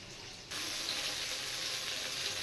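Eggplant frying in hot oil sets off a steady, moderately loud sizzle after a brief quiet moment, crackling on evenly to the end.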